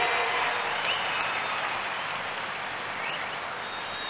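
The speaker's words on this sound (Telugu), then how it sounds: "గట్టిగా చప్పట్లు కొట్టి ప్రధానమంత్రి గారిని అభినందించాల్సిన అవసరం ఉంది" Steady applause for the Prime Minister from a large crowd at the opening ceremony of the Andhra Pradesh capital city. The clapping sounds broad and continuous, with no gap for its whole length.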